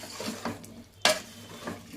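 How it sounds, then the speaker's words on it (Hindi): A spoon stirs and mixes onion, meat and spices in a cooking pot for a Hyderabadi salan with beans and potatoes, giving soft scraping strokes and one sharp metallic clink against the pot, close and without talk. "अब इन सभी चीज़ों को अच्छा मिला लीजिए।"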